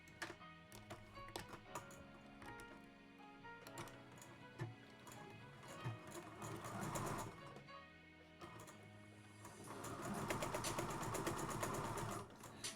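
A sewing machine stitches a half-inch seam through two pieces of fabric for a child's dress, its rapid mechanical clatter running in bursts with brief pauses and lighter ticking between runs.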